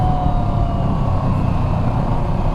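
Kawasaki Versys 650 motorcycle engine cruising through city streets, a steady loud low rumble with wind and road noise, continuous throughout without speech.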